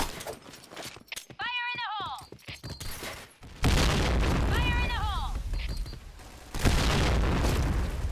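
Bomb explosions in the video game Point Blank: two heavy broadband booms, each followed by a sustained rumble, with game sounds and a whinny-like tone earlier and a player talking throughout.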